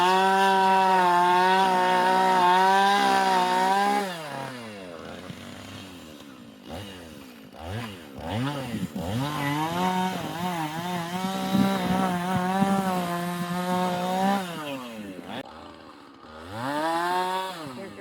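A chainsaw making a high cut on a hung-up aspen tree outdoors, loud and close, its engine revving and bogging as it bites into the wood, then dropping to a low idle before revving up again.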